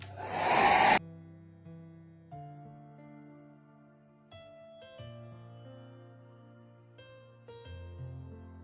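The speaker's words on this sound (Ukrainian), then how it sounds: "чекаємо, поки наша поверхня просохне, або скористуємось феном." A hair dryer blasts loudly for about a second to dry a painted surface, then stops, leaving soft, sustained instrumental tones playing quietly.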